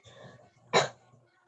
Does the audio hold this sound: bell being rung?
no